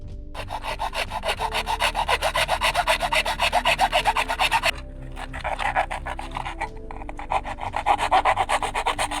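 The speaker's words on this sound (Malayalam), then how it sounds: "അപ്പോൾ ഈ റീപ്പുകൾ നമ്മൾ കട്ട് ചെയ്യുന്നത് പലകയുടെ വീതി അനുസരിച്ചാണ്." Small wooden strips are sawn by hand to plank width for an indoor vertical garden, a fast, even run of rasping back-and-forth strokes up close, pausing briefly midway and then continuing.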